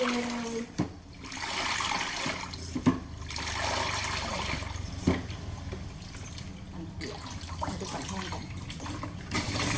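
A mop dipped in a bucket of water and spun in a foot-pedal spin mop bucket, giving sloshing and a rushing whirl of water with a few clunks; someone speaks briefly.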